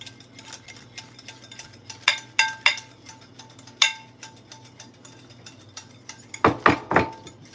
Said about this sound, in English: I'll start the process of whisking my garlic and my egg yolk